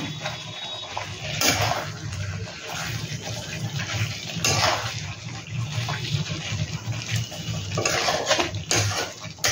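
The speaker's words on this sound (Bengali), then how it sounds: "চিকেনগুলো দিয়ে দেবো, একটু নেড়ে নিই" Chicken pieces go into a hot pan for black pepper chicken and are stirred, with loud bursts of sizzling and clattering utensil scrapes against the pan, close up and without talk.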